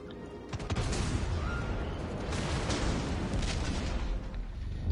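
Ship guns firing in the naval video game World of Warships Legends aboard HMS Exeter, a heavy booming salvo followed by a long rumbling roar of battle noise, loud and continuous with sharp cracks near the start.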